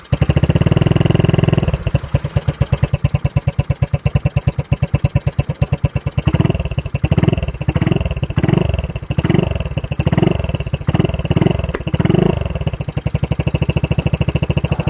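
A Honda scooter with a loud MT-85 aftermarket exhaust pipe idles with a rapid popping putter, then is revved repeatedly in short bursts, close and loud.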